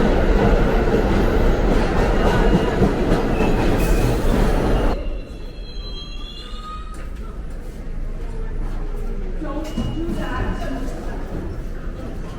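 A New York City subway W train rumbles loudly and then eases down, with high metallic wheel squeals rising and falling over the rolling clatter and a public announcement voice.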